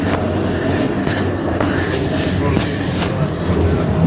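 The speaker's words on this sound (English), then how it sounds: "I'm on the train right now." An urban commuter train rolls along with a steady rumble, rhythmic clicks from the wheels over rail joints and a faint squeal, heard from inside the car with a passenger aboard.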